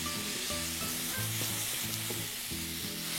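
Parsnip sizzles in a preheated pan, a constant bright hiss of frying with faint clinks and scrapes over it, steady and close.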